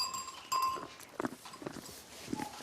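Lorraine goats on a farm in Moselle give several short bleats, scattered and close, with a bell clanking at the start amid light farmyard rustling.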